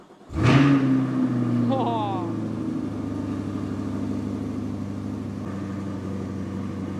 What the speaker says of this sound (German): Dazu schließen wir ab und drücken dann zweimal den Fernstartknopf.